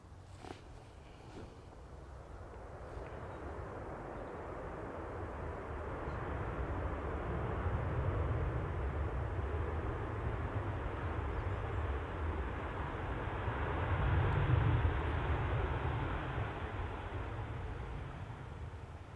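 An aircraft arriving at Manchester Airport, a broad, rising roar that swells over many seconds to a peak near the end, heard from fairly close by with no voices over it.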